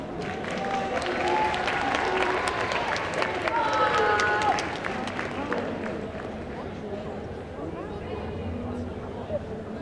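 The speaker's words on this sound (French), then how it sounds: "Je vous laisse l'applaudir comme il se doit." A crowd at a singing and dance contest at the Clermont Geek Convention claps for a dancer, dense loud applause with cheers swelling for a few seconds and then tapering to scattered clapping and murmuring voices.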